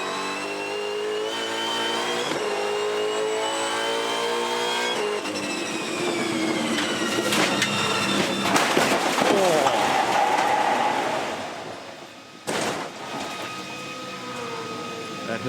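Onboard ride in a Supercars race car at the Tasmania SuperSprint, a loud, continuous engine roar with rising and falling revs through gear changes, steady for most of the lap and briefly dipping near the end.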